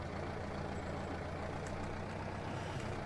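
A John Deere 6020 four-cylinder tractor in Farming Simulator 19 rumbles steadily as it drives, a continuous low engine drone at moderate level with no talk and no change in pitch.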